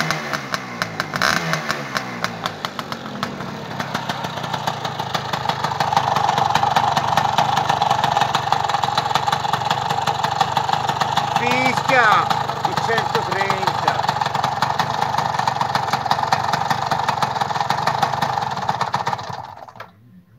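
A Vespa 50 Special scooter engine idles continuously at close range with a steady buzzing putter that swells slightly midway, then cuts off abruptly near the end, with brief voices nearby.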